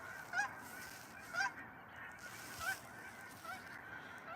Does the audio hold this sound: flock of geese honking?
yes